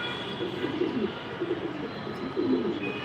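Racing pigeons in a loft cooing softly, a few low repeated coos over a quiet hum of background noise, fairly close and gentle.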